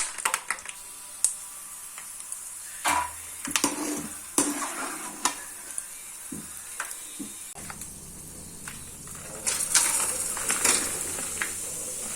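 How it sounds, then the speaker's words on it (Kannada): Peanut seeds stirring and frying in a pan for puliyogare until golden brown, with scraping stirs, clinks of a spoon against the pan and a soft sizzle that swells near the end; close and fairly quiet, no voices. "ಬೀಜನ ತೇಲಿಸ್ಕೊತಾ ಇದ್ದೀನಿ ಸ್ವಲ್ಪ ಗೋಲ್ಡನ್ ಬ್ರೌನ್ ಬರೋವರೆಗೂ ಫ್ರೈ ಮಾಡ್ಕೊಂಡು ಎತ್ತಿಟ್ಕೊತೀನಿ"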